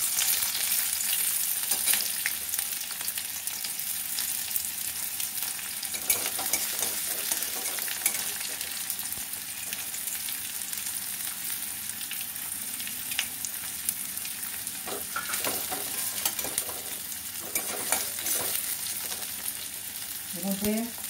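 Chopped onions frying with whole spices, cloves among them, in a pan: a continuous close crackling sizzle with occasional stirring scrapes and clatters, heard alone throughout.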